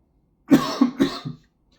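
A short burst of three or four harsh coughs in quick succession, close and fairly loud, then silence.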